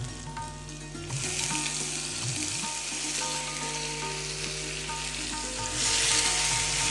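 Onion paste fries in hot oil in a home kitchen pan with green chillies, a steady bright sizzle and crackle that swells louder near the end, with faint stirring and a low hum beneath.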